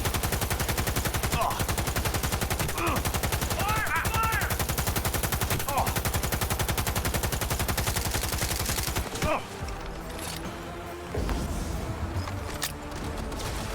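Rapid automatic gunfire from Cyberpunk 2077 rattles in dense, continuous bursts for about nine seconds, then cuts off into quieter scattered noise, with faint shouted voices mixed in.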